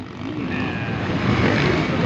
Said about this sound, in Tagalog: Drone, ilam na drone.